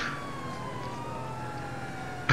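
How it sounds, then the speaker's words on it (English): A police car siren wails in Grand Theft Auto V, a steady falling electronic tone over road noise that ends in a sudden loud burst. "Your siren is fucked up"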